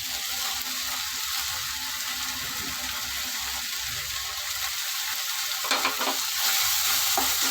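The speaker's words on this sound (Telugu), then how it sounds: "టమాటాలు కూడా ఇప్పుడు వేసేద్దామండి" Tomatoes go into a hot frying pan for a simple Telugu-style fish curry made without masala, giving a steady, loud sizzle and frying hiss with light stirring, close and without speech.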